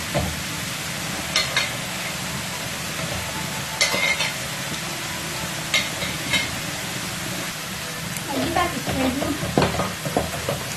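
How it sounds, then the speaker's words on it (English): Gizzard pieces frying in hot oil for peppered gizzard kebab, a steady sizzle with occasional louder pops and stirring clatter toward the end. "So once my oil is hot, I'm going to put in the gizzard"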